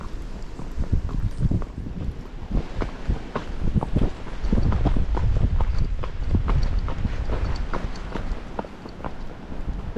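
Tennessee Walking Horse hooves striking the ground in a steady walking rhythm on a Folsom Lake trail, close and loud throughout, with no talk.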